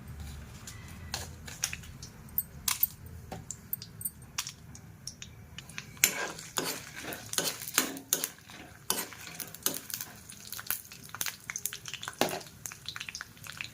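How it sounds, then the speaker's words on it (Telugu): Dried red chillies fry in hot oil in a pan, a quiet sizzle with sharp clinks and scrapes of a utensil on metal, sparse at first and then busier, close with no talk. "ఆయిల్ వేడెక్కిన తర్వాత మిరపకాయలు వేసుకొని"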